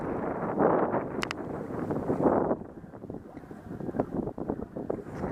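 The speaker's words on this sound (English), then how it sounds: "The way the wind's blowing." Wind gusts buffet the microphone outdoors on a bass fishing boat on the Potomac River, a loud steady rumbling roar that swells and eases, with a brief faint high whine partway through.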